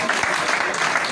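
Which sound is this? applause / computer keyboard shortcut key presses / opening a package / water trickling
applause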